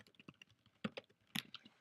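Keystrokes on a computer keyboard as a search term is entered into a WordPress plugin search, a quick irregular run of clicks with a few louder taps near the end, close and quiet with no talking.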